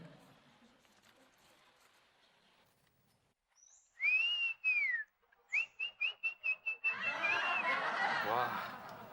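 A pet songbird sings nearby in bright whistled phrases: a sliding whistle, then a quick run of rapid repeated notes, ending in a burst of noisy chatter.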